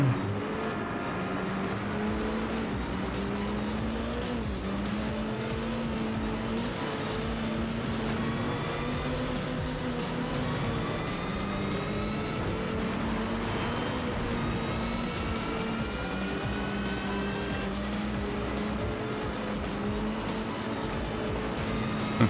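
A rally car engine in the video game MotorStorm: Arctic Edge revs continuously, climbing and dropping through the gears as it races, loud and close throughout with constant road noise.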